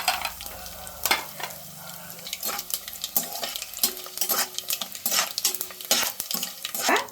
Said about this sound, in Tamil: ஒரு ஸ்பூன் கடுகு போட்டுக்கலாம் இதுக்கு காயெல்லாம் எந்த காயும் தேவையில்லை வெறும் வெங்காயம் மட்டுமே போதும் ஒரு மூணு காஞ்ச மிளகா